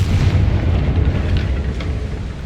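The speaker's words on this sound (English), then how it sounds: "Like them explosions." Heavy, rumbling video game explosions in Hogwarts Legacy roll continuously, loud and close, one deep blast blending into the next with no clear gaps.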